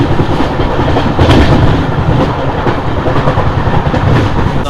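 Intercity SF Express train running at speed, heard from inside as a loud, continuous rumble with rhythmic clickety-clack of wheels over rail joints, steady throughout.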